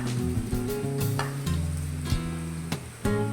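Spice powders, fennel and garam masala sizzle in a little hot oil for a prawn masala roast. A moderate crackle runs throughout, punctuated by several knocks and scrapes from a spoon against the pan.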